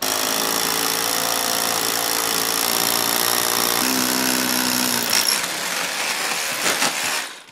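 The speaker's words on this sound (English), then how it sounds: "So I'm gonna go right through the brick." A power drill bores through brick for lag bolts, giving a loud, steady, close grinding whine with a slight pitch shift partway through. It breaks into rattling chatter before stopping.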